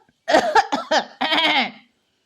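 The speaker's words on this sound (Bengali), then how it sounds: "একটু কেশে গলা পরিষ্কার করে বললেন" A middle-aged man clears his throat with a few short coughs followed by a longer rasping throat-clearing, close and clear against silence, an audiobook sound effect.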